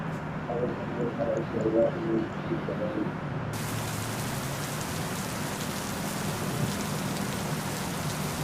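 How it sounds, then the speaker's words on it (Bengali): Rain begins falling during an outdoor trip, a steady broadband hiss of drops on surfaces that grows denser and fuller partway through, continuous and fairly close. "গাইজ বৃষ্টি শুরু হয়ে গেল।"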